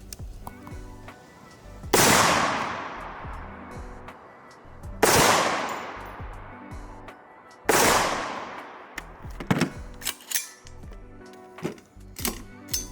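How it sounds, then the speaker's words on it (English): A rifle firing a three-round group while zeroing a sight, three loud sharp shots spaced a few seconds apart, each with a rolling echo, followed by softer clicks and handling sounds. "fire maybe a 3-round group"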